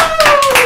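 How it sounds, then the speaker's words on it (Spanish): Two quick hand claps sound close and sharp, set over a thin steady tone. "Esto merece un aplauso. ¡Bravo!"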